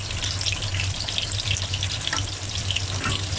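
Fish belly pieces fry in hot oil as their juices seep out, giving a close, busy crackle with scattered pops and spits over a steady low hum, continuous throughout.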